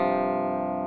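A sustained electric guitar chord rings out in a clean, bright tone through a MICRORIG portable rig, steady and close, fading only slightly over under a second.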